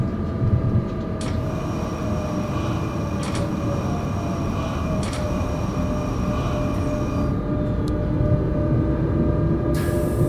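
A train runs in the Train Simulator 2020 video game, a steady loud rumble and rolling rail noise with faint tonal whine and a few sharp clicks, continuous throughout without talk.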